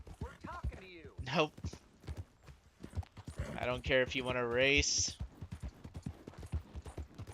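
Horse hooves clip-clopping on a trail in Red Dead Redemption 2, a soft steady rhythm of footfalls running beneath a voice talking throughout.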